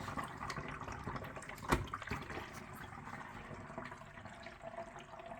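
An external aquarium filter siphons water into its canister, a soft, steady gurgling trickle with one brief louder splash, fairly faint and continuous.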